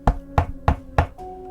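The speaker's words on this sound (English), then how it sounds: "Then, we got a knock on our door." Four sharp, evenly spaced knocks on a house door, fairly close and loud, followed by a short sustained tone with no voices.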